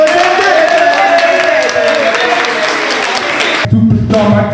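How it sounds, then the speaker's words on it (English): Loud, close crowd applause from a live show audience, continuous and dense, cutting off abruptly near the end as music begins. "That was applause for me."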